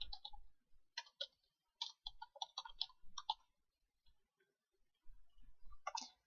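A computer mouse clicks in quick, irregular bursts of sharp ticks with quiet gaps between them, faint and close, with no voices.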